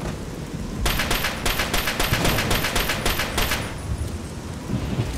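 Rapid gunfire in Fallout 3, a burst of about a dozen sharp, loud shots in quick succession, then fading into ambient noise.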